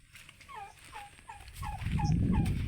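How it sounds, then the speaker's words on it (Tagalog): Two turkeys gobble in a rapid rippling series of calls, fairly close, with a low rumbling background noise rising toward the end. "Meron po tayo dito nga 2 pabo"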